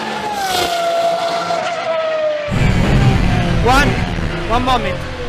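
A hypercar on a track gives a rising engine whine that gives way to a loud, rough roar with shifting revs and brief tire squeal, heard close. A voice talks over it.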